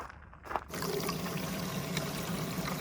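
Water gushes steadily out of the waste tank of a 2022 Winnebago Travato 59KL during a back flush, a continuous, fairly loud rushing pour after a brief quiet start.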